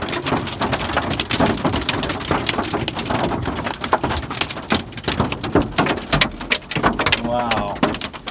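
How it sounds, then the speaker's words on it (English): Ice pellets from a heavy hailstorm clatter down in a continuous, crackling downpour with scattered sharper hits. Faint voices talk under the noise. "Our first real crazy hailstorm."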